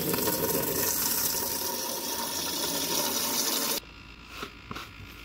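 Water pouring into a Harbor Freight 4 gallon plastic backpack sprayer, a loud steady gushing fill that cuts off abruptly near the end, followed by a few quiet knocks and handling sounds.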